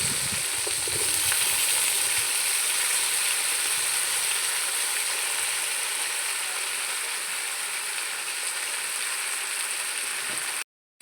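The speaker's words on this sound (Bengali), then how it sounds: "এখন আমি সবজিগুলো ভেজে নেব।" Mixed vegetables frying in hot oil with spices for a pumpkin-based vegetarian dish, a loud continuous sizzle heard close up with faint stirring at the start, cutting off abruptly near the end.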